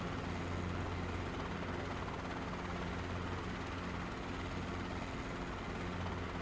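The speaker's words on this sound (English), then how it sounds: "We're in the good time helicopter today." A Robinson R-22 trainer helicopter in flight fills the cabin with a loud, unbroken rotor and engine drone, the steady low beating of the blades running throughout with no talk.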